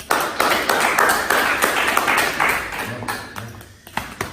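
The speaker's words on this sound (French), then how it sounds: "un tonnerre d'applaudissements pour le dragon, le redoutable, l'homme fort" A crowd at a boxing match claps to welcome a fighter, with sharp, fairly loud claps in a steady rhythm over a busy background that thins out toward the end.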